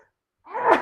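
A single sharp human sneeze bursts in after a moment of silence, close and loud, with a short breathy tail.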